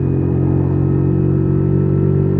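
A WK Scrambler 50cc motorcycle rides along a road, its small engine droning steadily and loud throughout with a constant rumble and no pauses.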